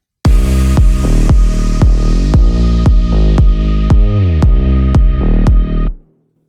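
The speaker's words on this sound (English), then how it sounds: "a string drone playing the root note of the track, and a vocal sample" A sustained string drone holds the root note of a chill house track while a chopped vocal sample repeats in rhythmic, evenly spaced stabs, loud and upfront before cutting off abruptly.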